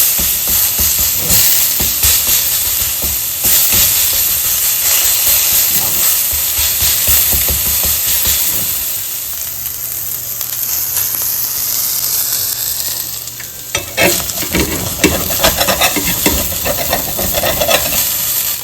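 Smashed burger patty topped with onions frying on a hot surface, a loud close continuous sizzle and hiss with scraping and pressing noises, briefly dipping before crackling back up strongly.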